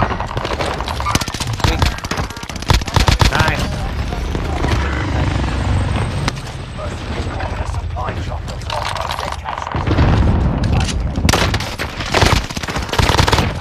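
Rapid bursts of automatic gunfire in a video game shooter crackle near and far in dense clusters, with a helicopter-like drone underneath and a player talking over the action.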